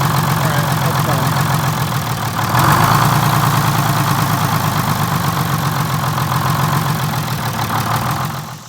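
Detroit Diesel 6-71 engine in a 1947 Silversides bus running steadily, a loud close continuous rumbling drone with a brief surge midway, fading slightly at the end.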